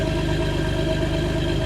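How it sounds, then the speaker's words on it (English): A car's pushrod engine idles with a cut-off exhaust pipe, a loud, steady low rumble with an even pulsing beat and no voices. "But it's got that sound of a pushrod engine"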